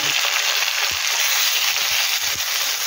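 Sliced tomato drops into a hot pan of prawns and sets off a loud, steady frying sizzle with a few soft crackles and pops.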